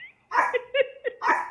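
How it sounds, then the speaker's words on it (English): A pet dog barks indoors right after a doorbell rings, a run of several sharp, close barks in uneven bursts, loud and alone without talk. "My doorbell just rang and now the dog is barking."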